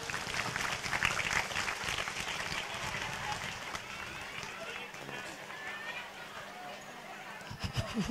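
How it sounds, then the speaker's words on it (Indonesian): An audience claps at a religious school gathering, a dense, steady round of applause from many hands that fades slightly and thins toward the end, with voices mixed in. "tepuk tangan dulu dong"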